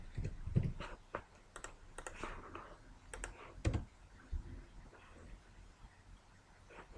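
Someone types in short bursts on a computer keyboard, quiet scattered key clicks with pauses between groups, close and soft.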